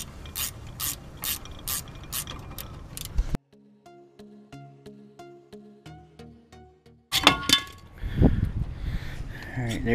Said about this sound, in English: We're going to go ahead and take off this bolt and this bolt, just like on the other side.